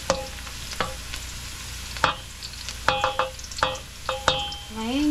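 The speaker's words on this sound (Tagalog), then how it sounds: "Haluin lang natin." Ingredients for sarsiado being stirred in a frying pan, with sharp scrapes and clinks of a utensil against the pan at irregular intervals over a steady sizzle, loud and close.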